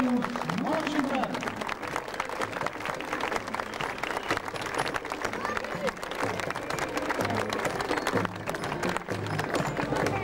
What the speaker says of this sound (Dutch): dit is maar één keer een enorm applaus